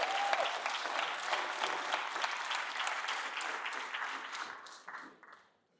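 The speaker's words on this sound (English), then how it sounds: "Can we all give Clint a round of applause" A room full of people applauding, the clapping sustained and fairly close, then thinning out and dying away to quiet over the last second.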